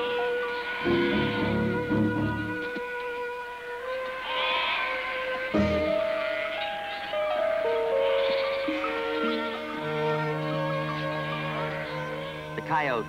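A flock of sheep bleats repeatedly as a young coyote chases it, with overlapping wavering cries near and far and a continuous chorus of calls throughout.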